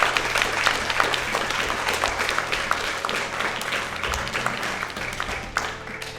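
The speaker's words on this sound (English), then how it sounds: "Let's give Heidi and Ander a big round of applause." A round of applause from an audience at a school speech day, dense steady clapping that carries on throughout at moderate loudness.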